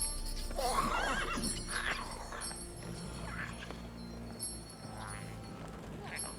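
A horse whinnies loudly near the start over a dense, busy background hum, with a few fainter neighs and calls after, in the video game The Witcher 3: Wild Hunt.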